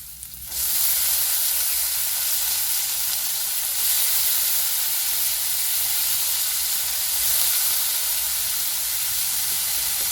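Chopped vegetables and peas frying in oil in a pan for a vegetable roll filling, giving a steady, loud broadband sizzle that starts abruptly and continues evenly without any talk.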